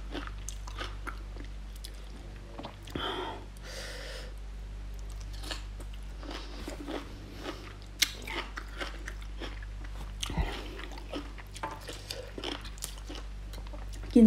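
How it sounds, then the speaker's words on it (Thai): Someone eating som tam, Thai papaya salad, with close, wet chewing and soft crunches over a low steady hum and faint background sounds. "กินส้มตำสังลาพี่น้อง"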